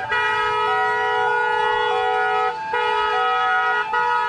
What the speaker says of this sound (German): Wir haben den Krankenwagen genommen, weil er diesen Krach macht.